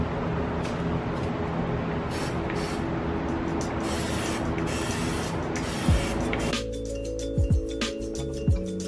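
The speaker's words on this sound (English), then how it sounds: "why are you spraying the tire? It's literally just plasti dip." Steady hiss of an aerosol can spraying Plasti Dip onto a car wheel continuously for several seconds, cutting off near the end, followed by a few faint knocks and clinks.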